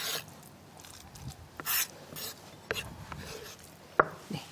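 Soft, irregular scraping and tapping of a knife tip against a board while mashing tofu, with a few sharper clicks near the end.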